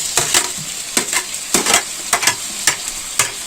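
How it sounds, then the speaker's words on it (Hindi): Ginger, garlic, chilli, tomato and other spices frying with browned onions in ghee for chicken pulao, a steady sizzle punctuated by rhythmic spoon scrapes against the pot, close by. "ये सारे मसाले थोड़े से प्याज घी में कर लें, थोड़े ब्राउन कर लें"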